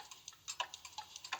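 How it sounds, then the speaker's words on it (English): A cuckoo clock ticks in a soft, steady, even rhythm of light clicks, faint and close, with nothing else sounding. "I found a cuckoo clock."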